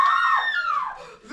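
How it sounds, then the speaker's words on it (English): A woman screams from another room during a murder-mystery scene in a mansion's billiard room, a single sustained, high, wavering shriek lasting over a second before trailing off. "The screaming is coming from the billiard room."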